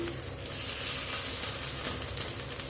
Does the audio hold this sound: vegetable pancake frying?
yes